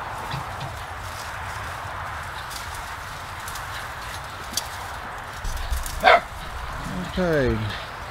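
Dogs bark and yip outdoors near a golf cart, with a single sharp bark and a short whining yelp near the end, over steady background noise and nearby talk.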